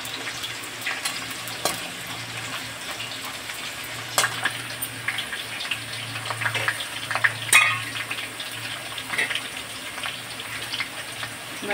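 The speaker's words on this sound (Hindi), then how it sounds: "अच्छे से हमारा सब चीज फ्राई हो रहा है" Cauliflower, potato and pea curry base of vegetables and spices frying in a pan, giving a continuous crackling sizzle up close with occasional spoon taps and stirring sounds, no voices.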